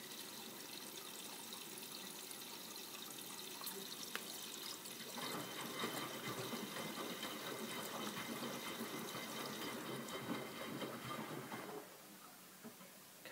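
A Miele W562 washing machine draws in water for a high level rinse, a steady rushing and splashing hiss heard nearby and alone, then easing somewhat near the end.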